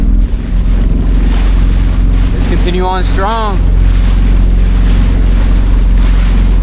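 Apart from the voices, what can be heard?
jet ski riding on the open ocean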